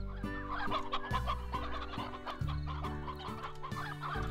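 Hens in the Slime Rancher video game clucking over and over in quick, choppy bursts, close and fairly loud over a steady game music bed, with no one talking.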